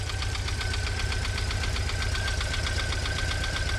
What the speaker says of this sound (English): A bit of lifter noise, understandable if the engine hasn't been running for a while.